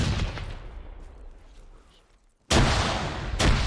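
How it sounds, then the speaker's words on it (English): Frag grenades exploding in a tactical shooter video game, with a faint rumble followed by two sharp, loud blasts about a second apart. "let's pepper them with frags, see what happens"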